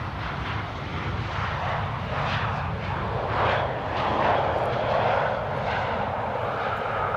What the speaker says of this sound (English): Another Embraer 190 in the meantime has landed here.